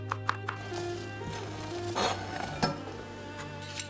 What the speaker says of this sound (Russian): Часть брокколи мелко нарезаем ножом.